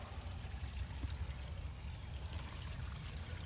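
Water drains from an RV holding tank valve, a steady, faint, low pouring rush that runs without a break and with no voices.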